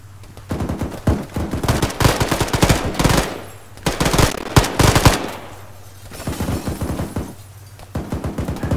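ArmA 3 PvP battle gunfire, rapid automatic bursts hammering loud and close in several long strings, with short pauses between volleys.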